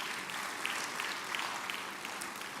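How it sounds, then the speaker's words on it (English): Audience applause closing a university event on the European Union's partnership with Nigeria, a fairly faint, steady patter of many hands clapping without voices. "let's give both of them another round of applause"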